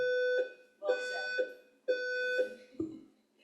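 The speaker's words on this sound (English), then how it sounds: "I don't know if I can speak over the beeping." An electronic alarm beeps in repeated tonal bursts, about four pulses in a steady rhythm, fairly loud during a justice epidemiology panel forum with a faint voice underneath.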